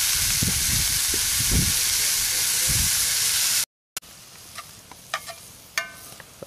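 Meat browns in a cast iron Dutch oven with a loud, steady hiss and sizzle and a few soft stirring knocks. After a short break, a quieter, thinner frying crackle returns with scattered pops.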